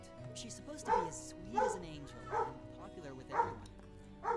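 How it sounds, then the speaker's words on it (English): Dogs bark and yip in short bursts at roughly even intervals in the background of a home livestream of a role-playing game, sitting under steady talking and game dialogue. "Again, I do apologize for the dogs barking."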